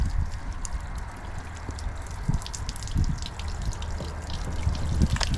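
Pure water rinsing a small van, a steady spray and gush running over the bodywork with splashes and drips against a constant hiss.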